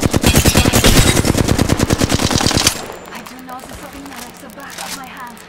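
Rapid automatic gunfire in the battle royale game Apex Legends, a loud dense string of shots for nearly three seconds, then quieter game sounds and voices.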